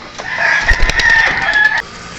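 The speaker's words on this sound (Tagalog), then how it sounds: "Ito naman si Algerta, kauna-unahang ibon natin, pinakamatibay, hindi pa rin nawawala hanggang ngayon." A pet bird named Algerta, the owner's first and longest-lasting bird, crows loudly and close up in one sustained rooster-like call of about a second and a half, with no talk over it.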